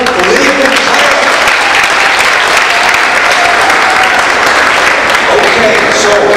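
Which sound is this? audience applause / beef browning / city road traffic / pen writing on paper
audience applause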